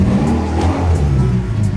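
A Mitsubishi Evo X engine revs loudly up close, a sustained mid-pitched engine drone with rising and falling throttle, heard alone with no talking.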